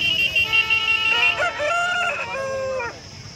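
Roosters crow repeatedly at a country chicken market in Mydukur, Kadapa, with long rising-and-falling calls that overlap one another, loud and close and continuing through the whole stretch.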